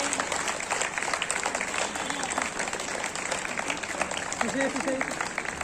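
An audience at a national seminar on education policy applauds, steady dense clapping throughout with a voice speaking over it.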